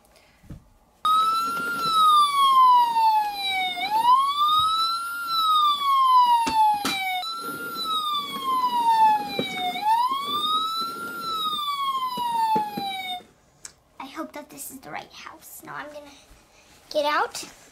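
A wailing ambulance siren rises and falls in long sweeping cycles, loud and close, then cuts off, followed by brief faint voices and noises.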